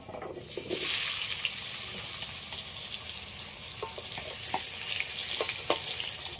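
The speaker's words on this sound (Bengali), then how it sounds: "এবার আলুগুলো সব ভেজে নেব।" Potato pieces coated with salt and turmeric fry in hot oil, giving a close, steady sizzle that holds the whole way, with a few soft clicks and stirs on top.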